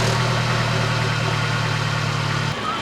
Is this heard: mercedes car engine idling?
yes